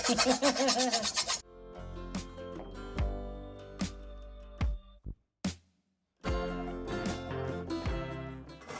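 Scraping and rasping of a utensil stirring flour in a frying pan for Samoan kaleve pisupo, with scattered clicks and knocks, starting after a burst of sizzle and pausing briefly near the end.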